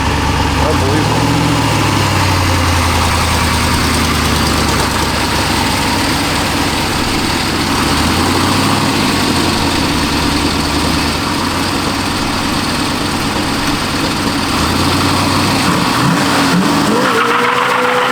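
An old car bought without knowing whether it ran, in South Texas, its engine rumbling loud and steady at idle for the whole stretch with a few swells of revving, close up and continuous.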